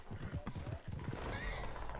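A horse in Red Dead Redemption 2 whinnies and clops its hooves over two seconds, mixed with game ambience and a voice talking over it.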